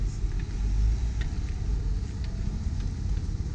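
An off-road vehicle crawls over a rocky waterfall obstacle on the Mica Gem Mine trail, giving a steady, close low rumble of engine and drivetrain with no talk over it.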